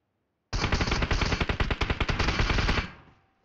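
Rapid automatic gunfire from BGMI, a mobile battle royale game, fires in one loud sustained burst of tight repeating shots lasting about two seconds, then falls off to silence.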